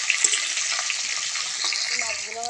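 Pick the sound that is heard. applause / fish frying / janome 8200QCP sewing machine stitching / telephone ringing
fish frying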